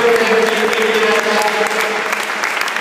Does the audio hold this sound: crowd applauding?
yes